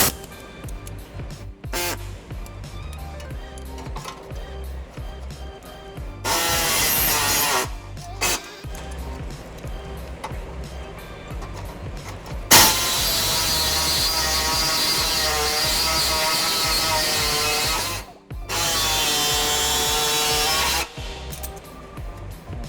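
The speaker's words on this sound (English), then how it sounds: "So we'll go ahead and widen out these two holes so that we can get our hardware inside the frame. I'll be using an air saw for this." An air saw cuts to widen two holes in the frame of a 2005 Nissan Altima during a trailer hitch install: loud, steady buzzing bursts in three long runs separated by pauses, with quieter workshop handling noise between them.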